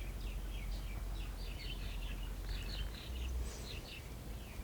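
Birds chirping outdoors at a home in Hawaii, a few faint, high twittering calls in short clustered bursts over a low ambient rumble, distant and quiet, with no speech.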